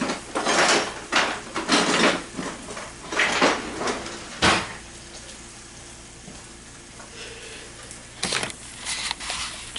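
Someone rummaging through a kitchen drawer for a spatula, rattling clatters of utensils in bursts, then a quieter pause and a final clatter, with a faint background hum.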